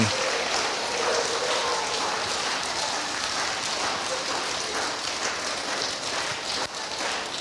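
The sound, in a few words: audience clapping for student of the month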